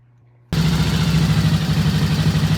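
A T20M motorcycle engine with a worn carburetor idling, starting abruptly after a quiet moment into a loud, close, steady throbbing putter with a slight wavering rhythm.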